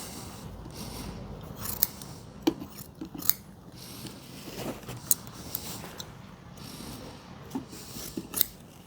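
Scissors snip upholstery fabric around the arm of an antique child's chair, a series of sharp close clicks and crisp cuts at irregular intervals, with rustling fabric between them and no talk.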